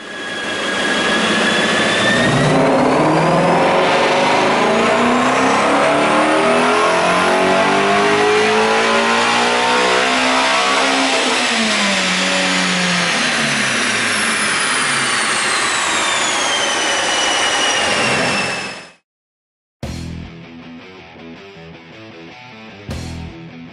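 A Ford Shelby GT350 engine revs hard on a dyno, its loud roar climbing steadily in pitch for about nineteen seconds before cutting off abruptly, leaving a brief quieter mechanical sound.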